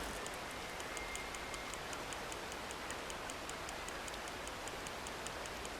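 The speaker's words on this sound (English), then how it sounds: "I love the sound of rain and just hanging out." Steady rain ambience in the Red Dead Online video game: a dense, even hiss of falling rain with a faint, regular ticking layered on top, continuous throughout with no voices.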